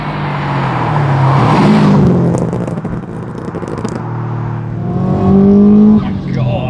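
Built 450bhp Subaru Impreza WRX STI engine accelerating hard under turbo boost, a loud rising interior drone with gear changes, heard under people talking in the car.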